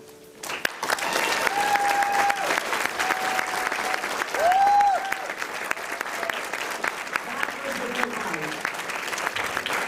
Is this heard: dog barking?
no